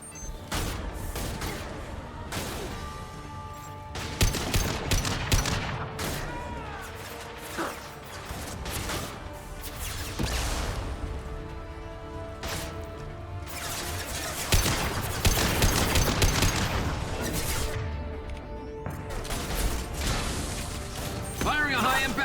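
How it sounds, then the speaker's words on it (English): Gunfire and impact blasts from combat in the video game Mass Effect 2, with repeated loud cracks and crashes over layered music and mechanical effects, while a character's voice speaks in between. "Firing a high-impact shot!"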